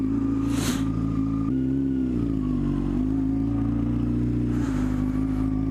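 A Yamaha R6 sport motorcycle's engine holds a steady, loud idle hum up close, with a couple of brief throttle blips and airy rushes as the rider sets off.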